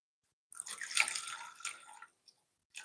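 Water is poured into banana bread batter for a date-and-honey loaf with no butter or sugar, a close, steady splashing pour of about a second and a half, followed by a faint short trickle and another brief splash.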